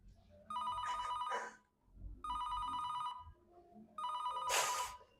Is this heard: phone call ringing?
yes